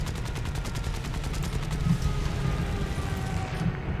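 Rapid aircraft machine-gun fire from the War Thunder video game during an attack on Pearl Harbor, a steady stream of close, loud shots in a fast burst, followed by continuous engine drone.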